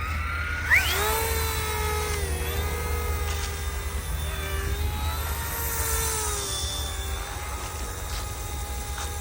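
A starter RC helicopter flies close by with a high, whining rotor and motor drone whose pitch dips and rises as it wobbles, held steady over about nine seconds with no voices.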